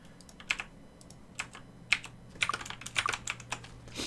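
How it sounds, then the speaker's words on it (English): Number keys on a computer keyboard are tapped while playing Might and Magic VI, giving a string of soft, irregular clicks close by, some in quick clusters, with no speech. "I'm moving those using the number keys."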